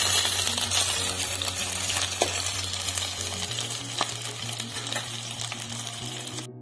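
Onions fry in a pan with a continuous close sizzle, broken by a few light metallic scrapes and taps of stirring, with no talk.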